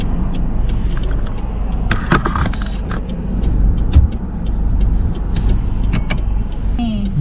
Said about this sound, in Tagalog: Ayan o, ang daming sasakyan.